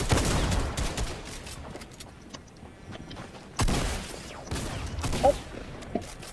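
Gunfire in the video game Fortnite, bursts of rapid shots crackling loudly at the start and again in the middle of the clip, with quieter scattered pops and game noise between them.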